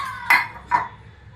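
A metal cooking vessel is set down inside a pot of preheated salt for stovetop baking, giving two close, ringing metallic clinks a moment apart.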